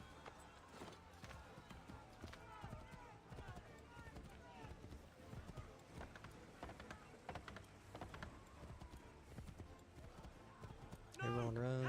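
Horse galloping in Assassin's Creed 3 Remastered, a fast, rhythmic drum of hoofbeats running beneath shouting voices and game noise, ending in a sudden louder burst.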